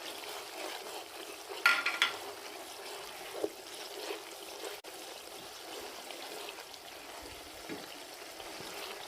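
Plain yogurt cooking in a pan for a white fish korma gives a faint, steady low sizzle with a few soft stirring scrapes, heard alone without talk.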